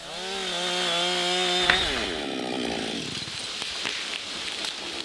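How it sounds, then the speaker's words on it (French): A chainsaw cuts through the holding wood of a tree being felled, its engine revving high and steady, then dropping in pitch as the chain bites into the wood, close and loud throughout. "Finalement, sciez le talon qui retient l'arbre."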